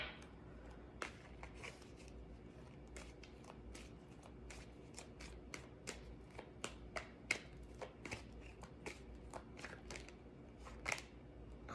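Tarot cards are shuffled by hand in quiet, repeated riffles and soft flicks, a crisp irregular patter close up in an otherwise silent room.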